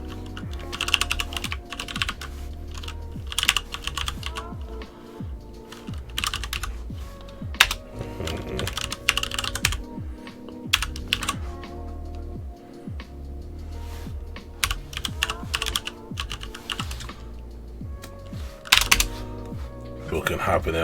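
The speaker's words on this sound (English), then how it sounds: "Let me just go ahead and type it in." Rapid keyboard typing on a computer, clicky keystrokes in bursts with short pauses, close and clear, with faint speech now and then.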